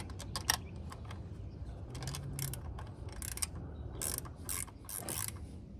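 Ratchet wrench tightening a PCV valve on a 2003 Hyundai Tiburon, several quick bursts of fast clicking ratchet strokes, close and crisp, separated by brief pauses over a low background hum.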